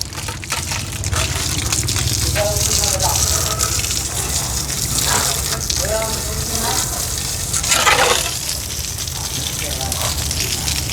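Running water gushes steadily while equipment is rinsed, a continuous loud splashing stream with brief surges, and indistinct voices talk over it.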